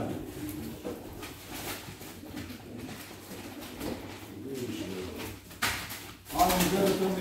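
A female pigeon at an indoor pigeon auction gives soft, low cooing in the background as people talk over it in a busy, echoing room.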